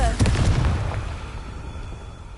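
A Confringo fire spell goes off in Hogwarts Legacy with a loud, booming blast at the start, and its rumbling tail fades away over the next two seconds.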